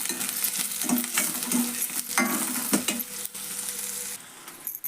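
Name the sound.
onions frying in oil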